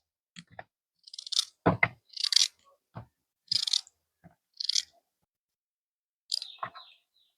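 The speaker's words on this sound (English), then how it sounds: "Pumpkin I cut up here now." Knife cutting through yellow pumpkin on a board, heard as a handful of sharp, separate crunchy chops and clicks spaced by short silences, close by and fairly quiet.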